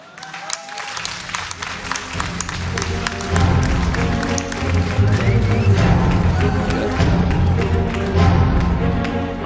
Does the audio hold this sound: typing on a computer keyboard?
no